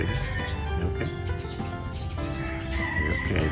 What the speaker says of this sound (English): This is a chicken in Gina's house.